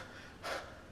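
A voice imitates the breathless panting of someone coming out of the water after a hard swim, heard as a single short, breathy gasp, quiet and alone.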